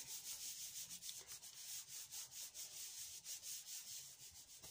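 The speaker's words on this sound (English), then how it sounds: "I'm going to pop my A5 over the top and give it a rub" A5 paper being rubbed by hand over an alcohol ink background, a soft, close, rhythmic swishing with repeated strokes that continues steadily without pause.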